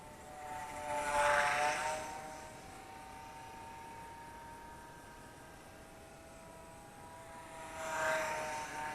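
Small Eachine Mini P47 Razorback RC plane, a 500mm-wingspan gyro-stabilized warbird, whines overhead with a thin electric motor buzz, swelling as it passes close twice and fading in between.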